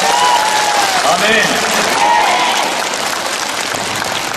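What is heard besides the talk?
congregation clapping hands at a church gathering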